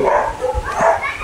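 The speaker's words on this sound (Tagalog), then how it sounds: "Ang laki ng aso." A large dog gives a few short, close barks and yips in quick succession.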